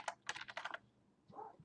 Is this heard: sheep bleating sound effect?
no